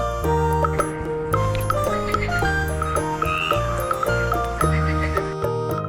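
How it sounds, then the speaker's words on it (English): Repeated frog croaks sound over a busy, loud musical backing, spaced out in uneven bursts across a farm-themed children's animal-sounds piece. "This is a frog."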